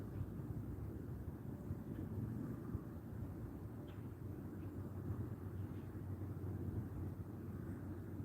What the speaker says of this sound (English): The wind's just turning and turning and turning.